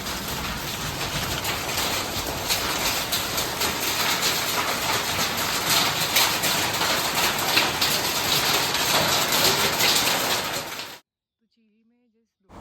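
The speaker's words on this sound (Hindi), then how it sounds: "देखो ये हेल स्टॉर्म।" Heavy rain mixed with hail pounds down steadily and loudly at Chiri on the Mandla road, caught from a scooter, a dense continuous roar that cuts off abruptly near the end.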